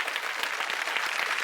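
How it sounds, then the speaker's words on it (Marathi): Applause from a studio audience at a women's game show event, a dense, steady burst of clapping heard alone and loud throughout. "जोरदार टाळ्या होऊन जाऊ दे."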